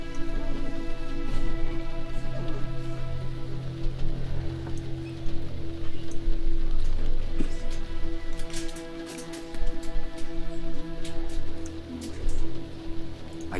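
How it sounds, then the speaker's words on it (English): Steady rain falls in the Primordia video game, a dense hiss of drops with scattered sharper patter, under a sustained low tonal hum and without talking. "Has it always been raining?"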